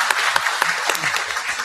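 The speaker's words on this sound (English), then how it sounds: "I'd like everyone to join me in applause for our panel today." Brief burst of audience applause for a humanitarian inter-cluster discussion panel, quick scattered claps under a lively room, with voices mixed in.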